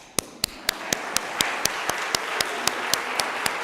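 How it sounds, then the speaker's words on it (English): Audience applause at a human trafficking awareness event, with one sharp, evenly spaced clap or tap standing out close by over a softer bed of crowd clapping, keeping a steady beat of about four per second. "I want everybody to give our little timekeeper a round of applause."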